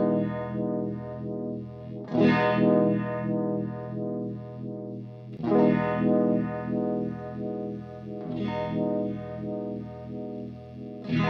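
An electric guitar plays through a fuzz and uni-vibe pedal setup, with the fuzz and the uni-vibe preamp on. Three fuzzy, throbbing chord strikes swell and sustain with a swirling pulse, close and alone.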